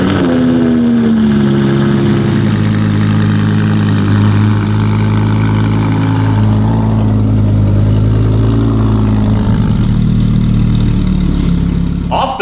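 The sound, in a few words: Audi R8 engine running as car is moved onto ramps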